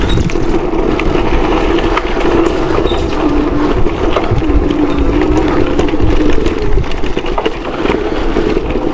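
A Torrent1 electric mountain bike with a 500-watt motor runs on throttle off road, a steady loud whine and hum mixed with wind and rough rolling noise, continuous and close throughout.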